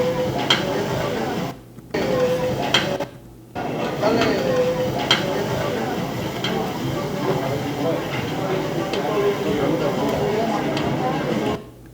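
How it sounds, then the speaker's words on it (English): Busy taco restaurant in Mexico City: steady clatter of cooking and chopping on the grill, with dishes and murmuring voices filling the room continuously. "The sound of the taco spot, the ambiance of the restaurant."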